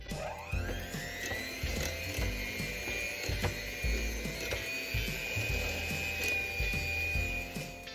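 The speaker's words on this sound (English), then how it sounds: "we're gonna add in 2 eggs, 1 at a time, and we're just gonna mix it" An electric mixer beats eggs into a butter batter for berry crumb bars, giving a steady, close, whirring motor whine with a rattling mechanical texture and no talking.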